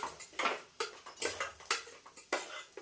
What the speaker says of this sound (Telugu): ఇందులో వచ్చిన మసాలా ప్యాకెట్స్ 2 వేయాలి. ఇప్పుడైతే కలుపుకోవాలి.